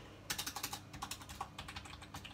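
Quick typing on a GXT 830-GW gaming keyboard, a steady run of light key clicks at close range with no voices.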